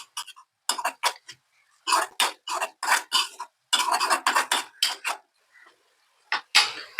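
Masala spices being stirred into eral (prawn) thokku in a pan: a run of short, crisp scraping and clinking bursts in an uneven rhythm, close and fairly loud, with brief pauses between strokes and no talking.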